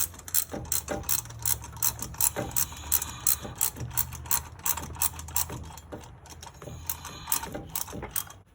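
A ratchet wrench clicks in quick repeated strokes while tightening motor mount bracket bolts on a Corvette C5 Z06, close up and steady with brief pauses between runs.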